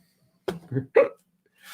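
A person hiccups several times in a quick close sequence of short, sharp, voiced jerks, with a quiet breath or rustle afterward.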